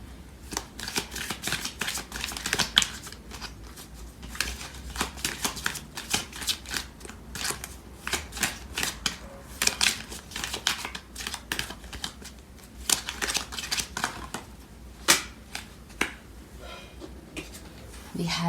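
Tarot cards are shuffled up close in a quiet room, with repeated crisp flutters and slaps coming in uneven bursts and short pauses between them.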